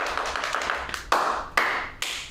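A group in a dance class claps in rhythm, a quick run of sharp claps followed by three louder, evenly spaced claps close by.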